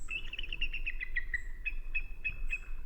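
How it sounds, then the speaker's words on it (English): A bald eagle gives a run of thin, high chirping whistles, a quick descending series followed by a few spaced repeated notes, clear and fairly close over a quiet background. "Despite its ass-kicking reputation, the bald eagle sounds nothing like how it does in the movies."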